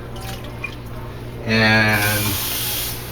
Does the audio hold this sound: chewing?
no